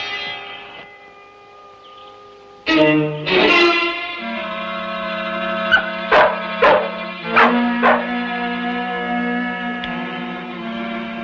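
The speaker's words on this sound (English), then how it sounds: "That dog's barking might have alerted them." A dog barks several times in a short series amid ringing bell tones, sharp, fairly close barks spaced a second or so apart over a sustained tonal background.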